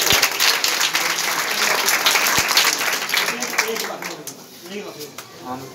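An audience claps steadily for a child at a village gathering in Datiyana, Muzaffarpur district, the applause dense and sustained before thinning toward the end, with voices mixed in.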